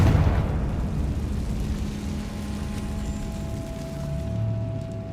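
A Confringo blasting spell explodes in Hogwarts Legacy: one heavy burst right at the start, then a long low rumbling decay with a faint steady hum. No one speaks.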